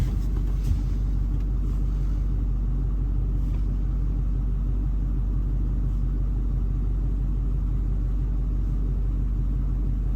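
A Duramax diesel truck engine rumbles steadily from inside the cab while driving, a constant deep low drone with no break and no talking.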